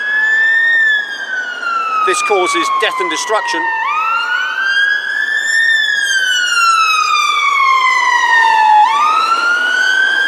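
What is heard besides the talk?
ambulance sirens passing by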